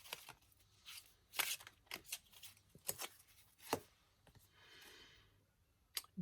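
Tarot cards being shuffled by hand, heard as a quiet, irregular series of crisp snaps and soft riffling bursts, close up and fairly faint.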